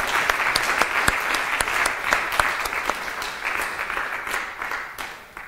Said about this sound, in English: I think we should give Daniel a great round of applause